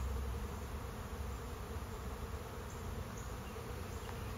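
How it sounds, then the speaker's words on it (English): A swarm of bees flying around behind a red hive, a steady dense buzzing hum that fills the air continuously, close and even, with no voices. "I wish the camera was able to pick up all the bees that are, let's see my finger here, flying around over in this area behind the red hive."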